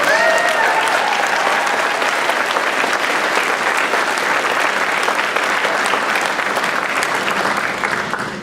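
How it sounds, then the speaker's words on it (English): Dense audience applause at a Cascade Blue Ribbon ceremony, a loud, sustained roar of clapping from a large crowd that holds steady throughout and fades slightly at the end. "Could you give him a round of applause, please?"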